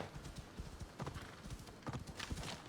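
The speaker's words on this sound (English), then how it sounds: "let's get the horse and head that way" A horse's hooves clip-clop in Assassin's Creed Odyssey, a quiet, quick run of hoof beats in an uneven galloping rhythm, with faint sharper clatters mixed in.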